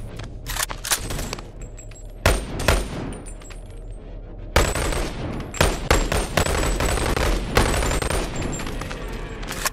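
Gunfire from behind cover in the VR game Boneworks: bursts of sharp, loud shots in rapid clusters separated by brief pauses, with metallic handling clicks between volleys.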